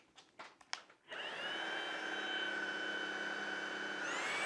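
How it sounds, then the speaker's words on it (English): A Tineco PURE ONE S11 cordless vacuum cleaner ramps up into max mode on deep pile carpet, its steady high whine and motor roar rising after a second of faint handling clicks and holding loud and close. "just to show how max mode will perform and sound. Once you push the max mode, it takes 3 seconds for the max mode to kick in."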